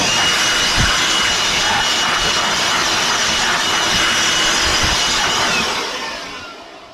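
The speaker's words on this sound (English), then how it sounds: "let me blow that out with the blower" A blower roars loud and close as it blasts debris out of the engine bay of a 1998 Yamaha G16 gas golf cart, a steady whooshing rush that tapers off at the end.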